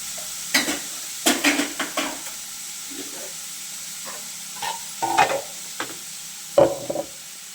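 Ingredients for sambar cook in a pan as a spoon stirs and scrapes in irregular clinks and scuffs over a soft, steady sizzle, close up with no voices.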